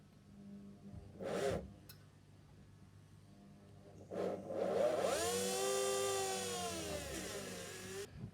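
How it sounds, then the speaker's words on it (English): A small power drill whirs in two short bursts, the second longer and rising in pitch as it bores a small hole in a 1/200 plastic model ship, close and fairly quiet. "So again, I just want to carefully drill a hole just behind the stanchion."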